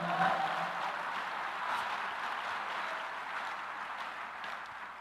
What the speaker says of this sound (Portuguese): dá um aplauso ao Senhor para ficar gostoso